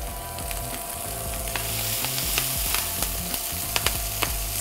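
Greens hit a hot pan with shallot and garlic on a commercial chef station, giving a loud, steady sizzle with a few sharp clicks and scrapes of stirring toward the end, no talking.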